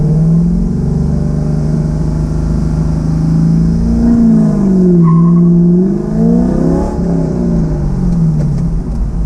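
A car launches hard from a standstill, its engine revving loud and close with rising, falling pitch sweeps through the gears and a brief tire squeal, continuous throughout with no talk.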